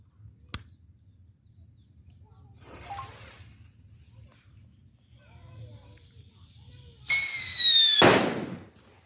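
King Thunder firecrackers set off against colorful water-filled balloons: a sharp early pop, then a loud, shrill descending whistle that ends in a forceful burst near the end, with faint background noise between.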